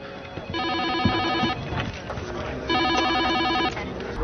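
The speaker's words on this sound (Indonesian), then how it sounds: "tak menyadari akan bunyi telepon yang terus saja berbunyi seolah meminta Joe segera mengangkatnya" Telephone bell ringing in two long repeated bursts with a pause between, loud and close, with other noises and voices around it.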